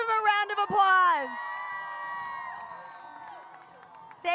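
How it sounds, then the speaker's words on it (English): An outdoor crowd at a rally in front of the Supreme Court cheers and applauds, with loud shouts and a whoop near the start, then sustained voices that thin out. "Give him a round of applause."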